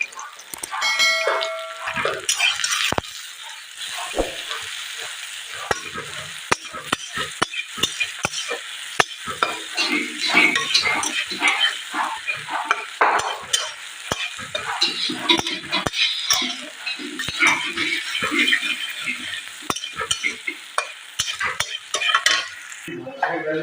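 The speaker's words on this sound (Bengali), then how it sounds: "পেঁয়াজটাকে ভালো করে লাল লাল করে ভাজবো" Chopped onions, lightly salted, fry and sizzle in a pan during village cooking while a utensil repeatedly scrapes and clinks against the metal in an irregular stirring rhythm, close and fairly loud.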